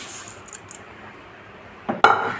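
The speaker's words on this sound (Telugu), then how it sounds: "ఇప్పుడు సేమియా వేస్తున్నాను" Vermicelli is added to milk in a pot for semiya payasam, heard as a few light metallic clinks and taps of a utensil followed by a brief louder scrape and clatter near the end.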